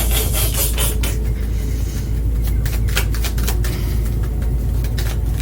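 A deck of tarot cards being shuffled by hand, with rapid papery riffles and flicks in irregular bursts over a steady low hum, close and fairly loud.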